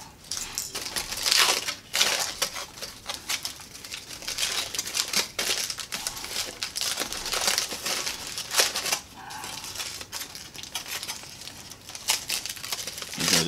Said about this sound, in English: we're going to go ahead and we're going to unwrap this. If the foil will let us.